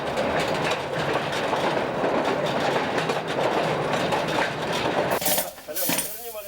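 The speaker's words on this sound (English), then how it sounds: "Today's miners travel to the coalface by train." Mine train carrying workers to a coalface, a loud continuous rumble and rattle of wheels and wagons with rhythmic clatter, ending in screeching and clanking near the end.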